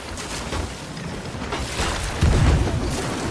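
Ship cannons firing during a Sea of Thieves naval battle, heard as dull low booms under a steady wash of sea and game noise, with a heavier thump near the end.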